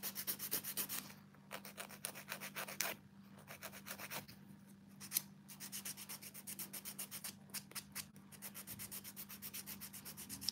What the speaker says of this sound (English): Whenever I'm filing,